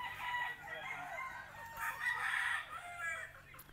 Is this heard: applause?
no